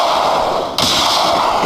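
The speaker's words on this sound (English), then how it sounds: "No, the gunshots do not attract zombies." A loud, steady burst of rapid gunfire in the video game Withstand Z with a sharp jolt partway through, continuous and harsh.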